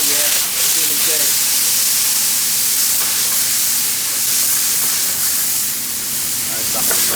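Wine poured into a hot pan while cooking salmon, giving a steady, loud hiss and sizzle of deglazing that holds throughout, with a voice speaking over it.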